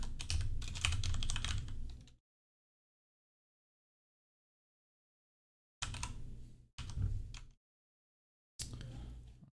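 Sharp bursts of rapid clicking come from a mouse and keyboard on a PC, heard while a character is built in the tabletop RPG Degenesis: Rebirth. The bursts are close and dry, with long silent gaps between them.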